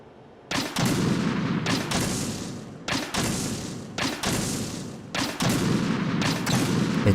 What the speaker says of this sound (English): It takes 6 fucking grenades to destroy one.